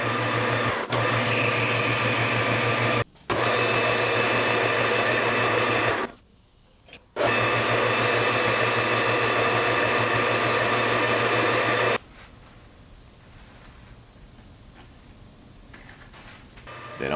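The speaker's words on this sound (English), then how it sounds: "I'll chuck up brass round stock in my lathe, face it, then turn a shaft" Metal lathe motor running while turning brass round stock: a steady, loud mechanical whir with a low hum. It cuts out twice briefly, then continues more quietly toward the end.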